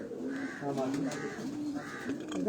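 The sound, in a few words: pigeon cooing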